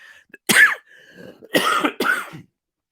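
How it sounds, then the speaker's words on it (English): Three sharp, close coughs in quick succession, each a harsh burst, with a short pause after the first. "dealing with my coughing"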